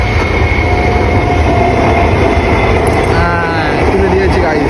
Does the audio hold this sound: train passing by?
yes